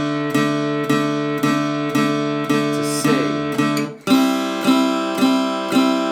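A guitar strums the song's bridge chords, moving from D5 to C, in a steady run of evenly spaced, ringing strums. The chord changes about two-thirds of the way through, played loud and close with no talk.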